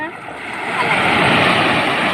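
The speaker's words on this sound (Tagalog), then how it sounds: "ang lakas ng alon" Strong ocean waves surge and wash onto a beach in a loud, continuous roar that builds slightly partway through, with a voice faintly present underneath.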